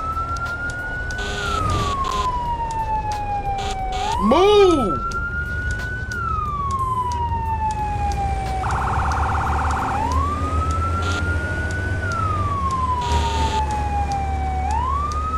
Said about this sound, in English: The engine sounds really fucking good in this